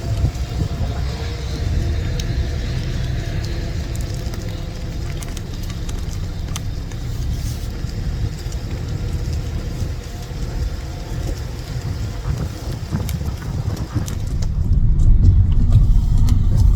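A car drives along a road with a steady low engine rumble and road noise that holds throughout, growing slightly louder near the end, with no talking.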